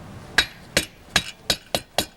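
A hammer taps a driver to seat valve stem seals on a Harley Knucklehead engine, six sharp metallic strikes evenly spaced about a third of a second apart, close and clear with a slight ring.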